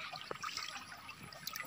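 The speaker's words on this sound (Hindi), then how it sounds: "ये पानी ये पहाड़ से आ रहा है, ये भूटान से आ रहा है ना" River water from Bhutan flowing down from the mountains, a faint, steady, far-off rush with no clear breaks.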